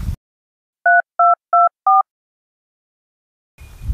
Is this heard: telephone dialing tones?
yes